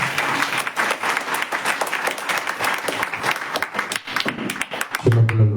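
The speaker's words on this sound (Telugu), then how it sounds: "చప్పట్లు కొడదాము." A church congregation claps together in a dense, lively round of applause that runs steadily at close range before a voice breaks in at the end.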